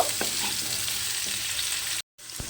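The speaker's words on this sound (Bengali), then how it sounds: "আলুটা দিয়ে এবারে আমি আলুটাকে প্রথমে একটু লাল করে ভেজে নেব।" Potatoes frying in oil produce a close, steady sizzle with a few light stirring taps, cut by a brief silent gap near the end.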